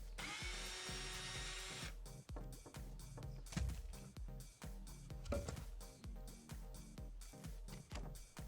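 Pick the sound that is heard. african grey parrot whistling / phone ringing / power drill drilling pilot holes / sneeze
power drill drilling pilot holes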